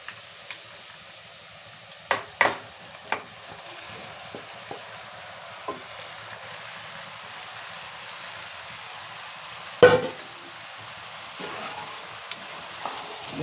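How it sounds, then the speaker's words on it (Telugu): Chicken pieces go into a pan of frying spinach curry, giving a faint, low sizzle with scattered utensil clicks and a sharp clatter partway through, no talking. "చికెన్ వేసేద్దాం."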